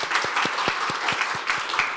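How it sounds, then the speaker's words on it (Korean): An audience at a youth speech contest applauds, with brisk, close claps rising and falling at a steady pace through the whole moment. "박수로 보내드리겠습니다"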